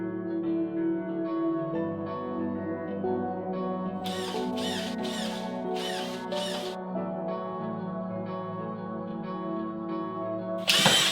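A power drill driving fasteners through drywall sheets into a 12-foot vaulted ceiling: a sustained, whining motor hum with a few short bursts of screw-driving in the middle and a final burst at the end, no talking.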